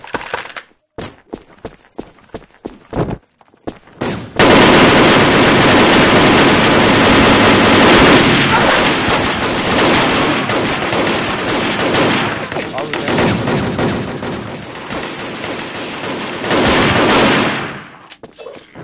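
Heavy, sustained video game gunfire in dense bursts, loud and close, with a few sharp single shots before the barrage and the last rounds landing near the end.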